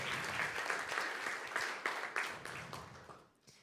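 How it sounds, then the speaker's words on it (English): An audience at a summer soiree claps for a co-founder, a dense, fairly soft wash of applause that gradually fades away toward the end. "Please give a round of applause for our co-founder, Miss Kim Carew."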